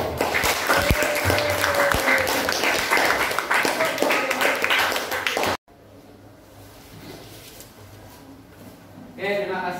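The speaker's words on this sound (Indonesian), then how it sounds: "Oke, tepuk tangan dong." Classroom applause from students, a dense burst of clapping mixed with chatter for about five seconds, then a quieter room with low murmur before clapping briefly starts again at the end.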